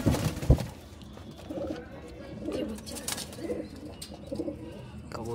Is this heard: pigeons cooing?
yes